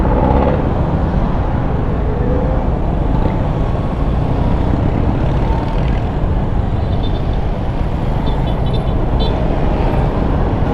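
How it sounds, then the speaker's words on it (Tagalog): Steady road traffic with many vehicles passing on the Tagaytay–Talisay road, a continuous loud broadband rumble of car and truck engines and tires with no talk. "Dami sasakyan ngayon."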